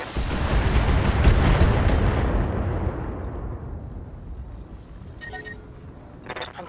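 BattleTech mech weapons fire on a target during an assassination mission in the Salardion Lowlands: a heavy, loud rolling boom that slowly fades into a low rumble, with a few faint mechanical clicks near the end.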